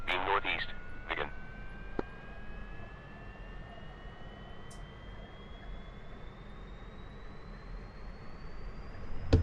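Idling MiG-15 jet engine in the DCS combat flight simulator: a steady whine that slowly climbs in pitch over a low, even rumble. A couple of short radio bursts come early, with a single click near the start.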